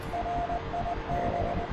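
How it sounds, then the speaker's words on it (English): A Morse code beacon plays over a helicopter's radio in a Huey flight game: short and long steady tones in a broken on-off pattern, faint under a continuous engine rumble. "Morse code, that's good."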